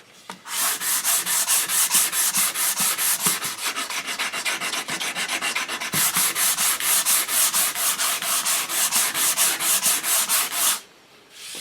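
Hand sanding of a wooden HW30 air rifle stock with 80 grit paper: steady rhythmic rasping back-and-forth strokes, close and loud, continuous for about eleven seconds before stopping abruptly.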